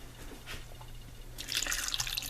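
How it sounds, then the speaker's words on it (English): Water is poured into a crockpot holding chicken and carrots, a splashing, bright stream that starts about halfway through after a quiet kitchen background. "I'm getting ready to pour some water in"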